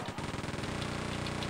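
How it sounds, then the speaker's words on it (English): Quake 2 chain gun firing in a fast, continuous stream of rattling shots, a dense burst throughout. "that chain gun just rips him down so fast"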